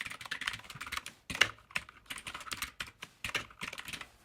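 Python code is typed on a computer keyboard in quick, uneven bursts of crisp key clicks, close and clear, with brief pauses between runs and no voice.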